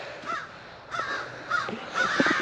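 Crows caw overhead outdoors near a covered bridge, four loud harsh calls spaced about half a second apart over a steady background hiss.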